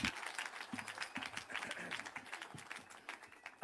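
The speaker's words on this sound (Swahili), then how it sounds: "Tungetaka kwa heshima tumpigie makofi" An audience breaks into sustained clapping to welcome Kenya's president at a public gathering, a dense patter of many hands, fairly distant and even, with faint crowd murmur beneath.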